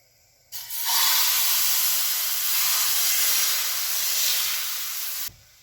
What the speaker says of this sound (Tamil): இதே மாதிரி நாங்கள் மீதி உள்ள தோசை எல்லாத்தையும் சுட்டு எடுத்துக்கொள்வோம்